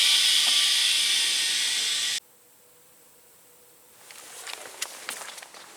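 A loud, steady hiss of compressed air pours from an air compressor hose in an aircraft hangar, then stops abruptly when the on-off valve is turned. Faint mechanical clicks and light knocks follow in the quiet.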